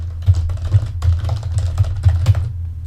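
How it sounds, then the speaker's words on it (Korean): Close, light taps sound irregularly and in quick succession as a title is typed on a smartphone keyboard. "여기다가 제목을 입력해 보도록 하겠습니다"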